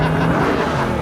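Car doing a burnout at a drag-style racing start line, a loud continuous roar of engine and spinning tyres with a steady low drone filling the whole moment.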